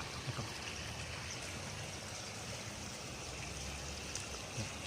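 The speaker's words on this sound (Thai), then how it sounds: "บรรยากาศน้ำนะครับ" Overflowing floodwater from the Pa Sak river rushing through a village community in Lom Sak, Phetchabun, Thailand, heard as a steady, dense broadband roar that stays even and close throughout, with no voices.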